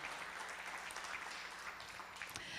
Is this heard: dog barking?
no